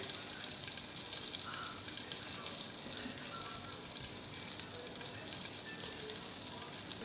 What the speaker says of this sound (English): Fry with very medium fire. Let it be brownish. We fry till brownish.